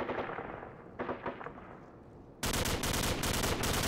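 Video game gunfire in a military shooter with Humvees: dense rapid automatic bursts, faint and busy at first, then a sudden loud sustained rattle of fire filling the last stretch.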